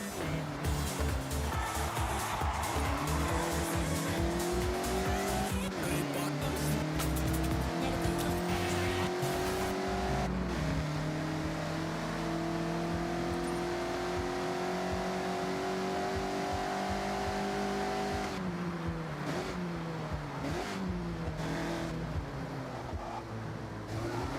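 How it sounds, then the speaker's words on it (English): A Mazda MX-5 driven sideways through corners in the Forza Horizon racing game, with a continuous loud engine rising and falling through gear changes and revs, and tire squeal in the slides. "Attack these corners. Don't worry about traction. The MX-5 likes to be sideways."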